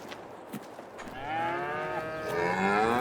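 Cows in Farming Simulator 22 let out a long, drawn-out moo that swells and holds for about two seconds, heard clearly and alone after a few faint knocks.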